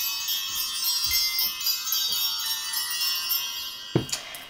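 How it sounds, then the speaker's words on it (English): Bells rung to create sacred space before a tarot reading, a bright, shimmering jingle that carries on steadily, ending with a sharper clink near the close. "I will ring the bells to create some sacred space around this reading."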